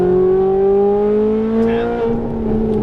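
Ferrari 458 Italia V8 held at full throttle on a Las Vegas racetrack, a loud steady high-pitched wail with tones climbing slowly, then a brief dip as it shifts near two seconds; no talking.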